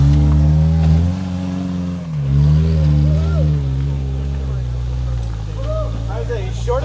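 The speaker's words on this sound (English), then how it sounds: "coming up full throttle, perfect line, a little bit of side action" Off-road rig on Nexen Roadian MTX mud tires climbing a trail hill at full throttle, a loud, steady engine drone under close talk throughout.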